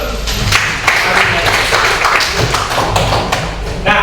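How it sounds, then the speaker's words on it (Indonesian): A classroom of students applauds, with quick, close, loud claps and table thumps forming a dense ragged patter for a few seconds. "Aplaus dulu."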